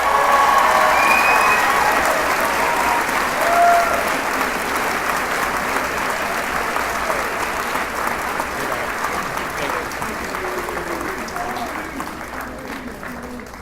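A high school commencement crowd for the class of 2018 applauds and cheers at length, a loud, dense roar of clapping with scattered shouts that slowly tapers over about fourteen seconds.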